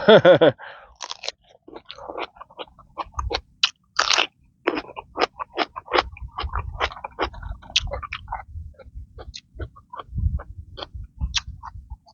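Close, loud crunching and chewing of stir-fried holy basil with century egg topped with chili fish sauce, in a quick irregular series of bites and mouth sounds.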